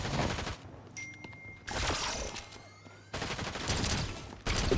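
War Machine's auto turret in Fortnite firing rapid automatic bursts in several separate volleys with short pauses, loud and close, with game effects between bursts.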